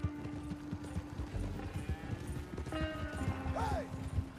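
Horse hooves in Red Dead Redemption 2 video game: brisk, rhythmic clip-clop of hooves with a brief whinny near the end, backed by wagon rattle and ambient game sound.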